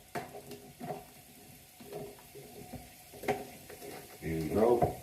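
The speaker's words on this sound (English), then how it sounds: "Let that fry first." Food frying in a pan for a budget home-cooked meal, a low crackling sizzle running steadily under a few stirring scrapes, swelling louder near the end.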